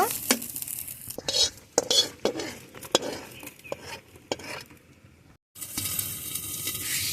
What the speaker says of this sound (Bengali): আদা রসুন ভালোভাবে ভেজে নিয়েছি এখন উঠিয়ে নেব